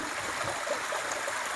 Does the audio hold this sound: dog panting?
no